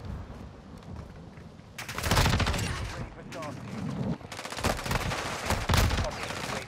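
Heavy automatic gunfire in a shooter game, several weapons firing at once in dense, loud bursts that start and stop in waves, with a voice talking underneath.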